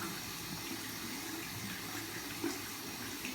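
Water runs steadily from a tap while eyelash extensions are rinsed, a close, even splashing stream with no talking.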